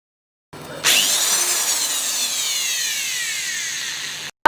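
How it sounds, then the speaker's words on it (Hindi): A drill fitted with a wire brush attachment starts up and runs steadily at high speed, a loud whirring whine with a rising pitch at spin-up, then holding constant for about three and a half seconds before cutting off. "तो देखिए इस तरह से इसे ड्रिल मशीन में लगा लिया और ये हो गया तैयार।"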